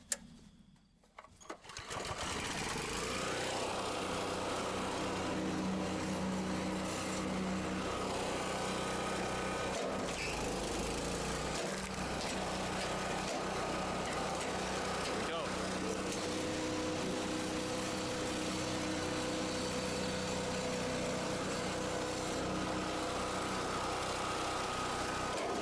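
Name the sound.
DR RapidFire Kinetic log splitter running on hardwood log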